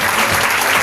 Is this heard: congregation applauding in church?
yes